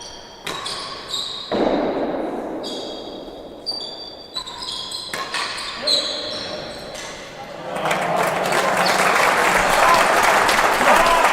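Crowd applause at a real tennis world doubles championship match, building from scattered clapping into sustained, fuller clapping toward the end, with a commentator talking over it and occasional ball knocks.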